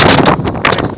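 Coastal wind at Dunwich on the Suffolk coast buffets the microphone in loud, rough gusts that rise and fall over a short moment.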